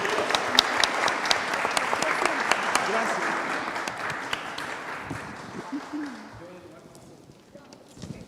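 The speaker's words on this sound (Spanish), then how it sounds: "Un aplauso." Applause from a seminar audience on the economic cost of crime, sustained crisp clapping that fades over several seconds, with a few voices talking underneath as it dies away.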